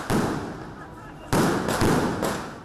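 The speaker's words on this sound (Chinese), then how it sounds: "热闹的鞭炮一响" Firecrackers burst during the Dajia Mazu temple procession in Changhua, loud crackling volleys in several surges, close by and outdoors.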